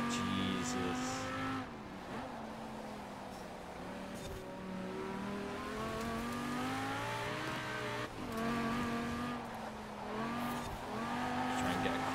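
A car in Forza Horizon 4 spinning its wheels in third gear, engine droning and rising while tires squeal and lose grip, steady and loud throughout with a voice talking over it.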